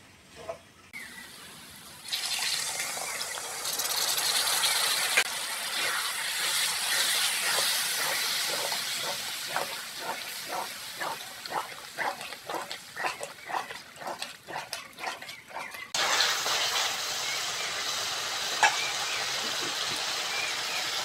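Loud steady sizzling and hissing as whipped sour yogurt goes into goat fat frying in a pan for a jackfruit curry, crackling densely throughout with a burst of rapid popping midway and no talking.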